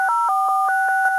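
Telephone keypad tones beep in quick succession, six or so short clear dual-pitched pulses at an even pace, loud and clean with no talking over them.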